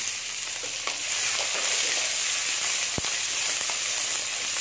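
Garlic, ginger and onion sauté in hot oil for a coconut crab curry, giving a loud, continuous bright sizzle close by, with a few soft stirring knocks and one sharp clack.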